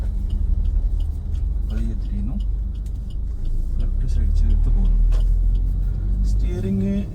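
A car pulls away slowly up a small incline during a driving lesson, its engine a steady low rumble from inside the cabin with slight rising effort, and an instructor talks over it.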